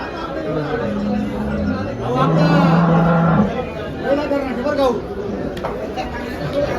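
HF and Jersey cows low and moo among a murmuring crowd of people talking at a cattle market in Dhule, with a long drawn-out moo standing out midway through the busy market noise.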